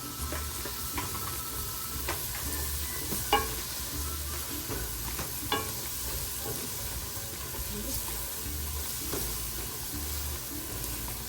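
A spoon stirs coriander and cumin powder into chicken frying in a pan, giving irregular clicks and scrapes over a constant sizzle, heard up close with no talking.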